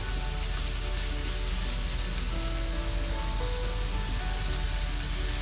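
Thick-cut bacon fries in a pan with a steady, even sizzle and spatter that hold at one level throughout, close by and with no talking over it.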